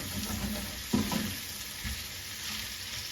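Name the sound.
spinach and sun-dried tomatoes cooking in a pan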